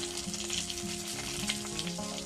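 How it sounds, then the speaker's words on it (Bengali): Cumin, asafoetida and garlic fry in hot mustard oil with a close, steady crackling sizzle, fairly soft and unbroken, and no one talks over it. "জিরাটা ভাজা হয়ে গেছে সুন্দর গন্ধ বেরোচ্ছে"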